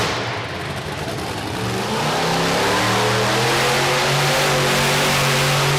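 Monster truck engine revving hard through donuts at a monster truck nationals event in DuQuoin, Illinois, a loud continuous roar whose pitch climbs and holds steady, close and alone without talk.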